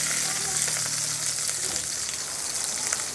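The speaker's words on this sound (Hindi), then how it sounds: "शिमला मिर्च को आपको इतना पकाना है, ये ऊपर वाली जो इसका परत होती है वो हट जाए" Capsicum roasting in a kadai for kadai paneer, giving a steady close sizzle and frying hiss that runs unbroken throughout, with no talk over it.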